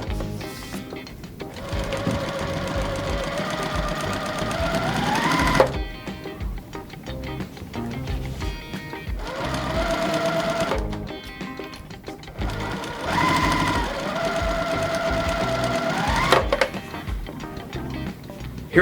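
Sewing machine stitching quilt pieces for a pinwheel pattern, running in loud rapid bursts of a few seconds each with short pauses and speed changes between seams.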